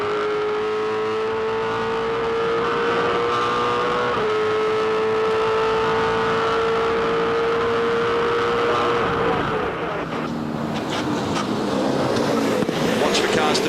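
V8 Supercars race around the Pukekohe Raceway hairpin in 2007, engines droning loud and near with a long falling whine as a car passes, then mixed roaring from several cars, while commentators talk over the track noise.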